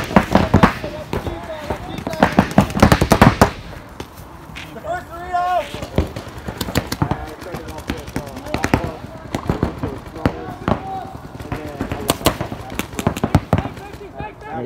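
Paintball markers fire in rapid, sharp pops during a paintball game, bursts of close and distant shots crackling amid running and excited shouting players.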